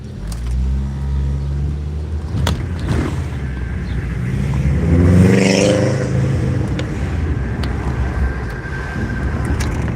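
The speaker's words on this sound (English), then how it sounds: "Oh, doing wheelies now." A street vehicle doing wheelies in Chester, PA revs up from a distance, swelling to a loud passing roar at mid-point before fading, over constant traffic rumble with a few sharp clatters.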